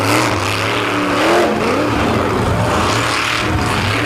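A crippled monster truck's engine roars at full throttle during a beach monster truck show, a loud continuous wavering drone with pitch swells as the driver holds the pedal down.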